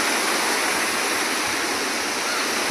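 Steady rushing flow of a rural stream where a man washes clothes, a constant broad wash of water noise close by with no talk.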